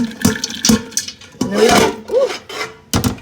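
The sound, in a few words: pouring rinsed beans into a pot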